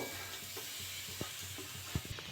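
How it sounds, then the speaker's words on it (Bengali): Grated coconut hitting a hot wok and being stirred, a steady low sizzle with a few soft scraping knocks, close and alone without talk. "কড়াটা গরম হয়ে গেছে নারকেলগুলো দিয়ে দেবো"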